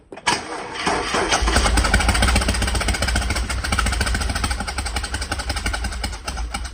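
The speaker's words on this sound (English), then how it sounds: "I'm going to put the other coils back in and start the engine" A turbocharged car engine, just repaired from a stripped spark plug thread, cranks briefly and catches, then runs with a loud, rough, steady rumble up close.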